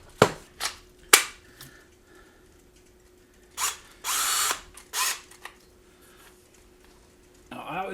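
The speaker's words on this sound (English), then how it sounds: "Now I always pre-drill my holes." A WORKPRO 20V cordless drill pre-drills holes in a few short bursts and taps, with brief whirring spurts separated by quiet pauses and handling clicks, close by, and no talk.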